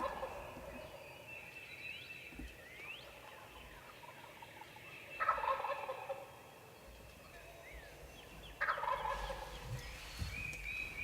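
A wild turkey gobbles twice in the distance, several seconds apart, each call a short rattling burst over quiet outdoor ambience with faint background birds.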